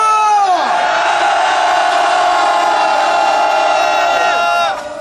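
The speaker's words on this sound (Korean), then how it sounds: "우리 목소리가 국회까지 들릴 수 있도록 5초간 함성 발성" A large crowd at an outdoor rally of chartered bus operators raises a sustained shout in unison, a loud, roaring, held cry lasting about five seconds before dropping off, close and dense.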